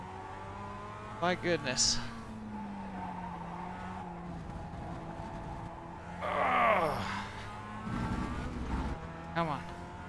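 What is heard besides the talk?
race car drifting, tires squealing, from a racing sim game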